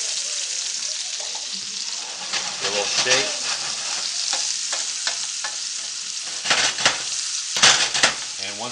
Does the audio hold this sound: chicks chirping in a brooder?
no